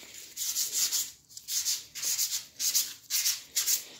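Light hand sanding of a lightsaber blade tube for diffusion, with about eight even, rhythmic back-and-forth rubbing strokes, close and fairly soft, with no talking.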